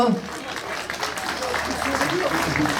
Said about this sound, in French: On applaudit bien fort le Sivom.